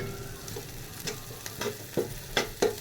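Onion softened in a pan with coriander added, stir-fried with a steady sizzle and a series of distinct spatula scrapes and taps at irregular intervals, close by, with no talking.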